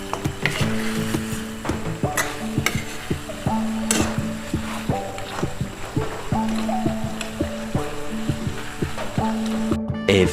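Ghee mutton curry meat frying in ghee as the marinade releases water, a soft continuous sizzle under repeated clinks and scrapes of a spoon stirring against the pot.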